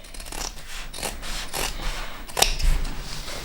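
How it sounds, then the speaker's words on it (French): Scissors snip away excess fabric along traced pattern lines for a sewn pouch, with a series of close, soft rasping cuts and one sharper click near the end. "je peux découper donc le surplus de tissu sur les côtés"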